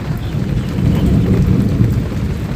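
Steady, heavy rain pours down continuously with a deep rumble of thunder rolling underneath, close and loud throughout with no voices.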